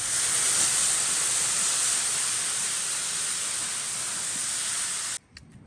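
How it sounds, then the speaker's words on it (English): Water hisses and steams loudly on a hot Blackstone 36-inch griddle top, a continuous harsh sizzle lasting several seconds before cutting off abruptly. "The great thing here is the water will steam up, help clean the griddle top"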